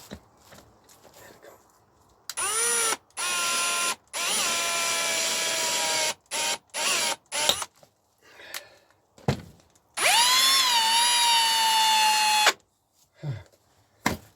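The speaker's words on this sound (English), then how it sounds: "have to be careful when I'm drilling." A power drill whirs in several bursts while working on a Honda NTV650 cafe racer motorcycle seat, revving up and winding down, with short quiet gaps and a longer sustained run near the end.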